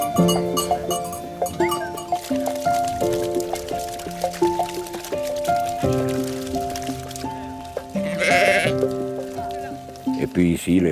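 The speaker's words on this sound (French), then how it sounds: "on passe les brebis au parc" Ewes in a mountain pasture pen bleat repeatedly and close by, their calls overlapping in an irregular chorus. Soft splashing and rustling come between the calls.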